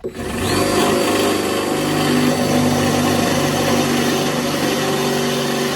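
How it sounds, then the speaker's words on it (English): A power drill drilling out fasteners on an old car spins up and runs continuously at high speed, a loud steady whine with buzzing mechanical tones and slight pitch shifts. "I gotta drill those out"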